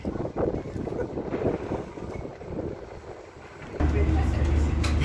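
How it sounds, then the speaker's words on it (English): Wind buffets the microphone during a ferry ride on the water from South Perth toward Elizabeth Quay, a continuous rushing roar that swells into a louder, steadier hum of the vessel near the end. "We're inside the ferry and we're going to Elizabeth."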